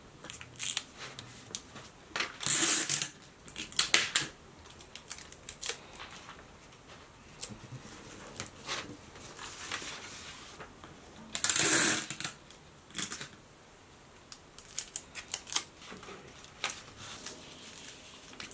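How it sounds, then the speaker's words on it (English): Paper rustles and crinkles as a bodice block pattern is folded over, followed by sharp bursts of tape being pulled and pressed down; quiet handling noises between. "So fold that over like so, and then tape it down."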